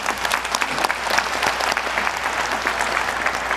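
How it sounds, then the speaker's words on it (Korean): An audience at an official government meeting breaks into sustained, even clapping, many hands at once, close and full throughout. "여러분 큰 박수 부탁드립니다"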